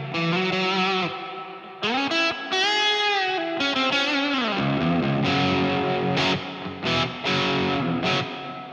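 An electric guitar through an Orange Super Crush 100 solid-state amp, with the amp's reverb stacked on a pedal reverb, plays distorted sustained chords and bends, with long reverb tails and a few sharp stabs, loud and close, no talking.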